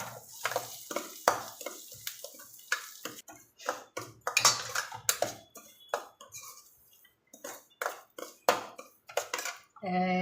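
Onion, green chillies and semolina being roasted in a pan for white upma, with irregular spoon clinks, scraping and light sizzling, close and fairly quiet.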